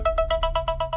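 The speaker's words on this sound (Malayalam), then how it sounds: "ഗൗതം വിളിക്കുന്നു." A mobile phone ringtone for an incoming call, a rapid run of about eight identical bright electronic beeps in even rhythm, close and clear, cut off by a short thump at the end.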